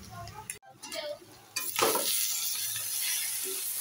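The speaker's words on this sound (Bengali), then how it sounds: "তো আবারও একটুখানি নাড়াচাড়া দিয়ে সামান্য জল দিয়ে দিয়েছি" Fish curry stirred and frying in a pan, a steady broad sizzle with scraping stir strokes, a brief sharp drop in the middle, then louder frying hiss continuing to the end.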